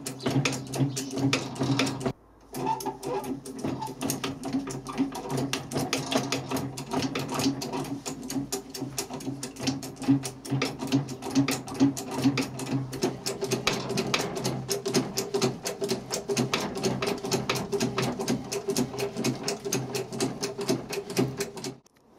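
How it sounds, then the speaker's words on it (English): A machine cuts a keyway through a bushing with plenty of lubricant, giving a steady, fast mechanical chatter throughout that pauses briefly near the start, then runs on evenly and close. "through the job, cutting the keyway as it goes"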